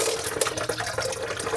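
Thin rock tumbler slurry poured from a tumbler barrel into a container, a short steady liquid pour with gurgling and splashing, close and fairly loud.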